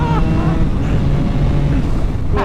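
A two-stroke 250cc sports motorcycle engine pulling hard after a downshift, a loud, continuous buzzing drone mixed with heavy wind rush while riding.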